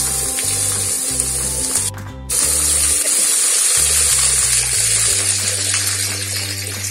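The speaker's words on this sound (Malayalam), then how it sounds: "ഇനി ഇതിലേക്ക് മട്ടൺ ചേർത്ത് കൊടുക്കാം" Half a kilo of mutton goes into a pan of sautéed shallots, setting off a loud, continuous sizzle and spatter with a brief break partway through, over a steady low mechanical hum.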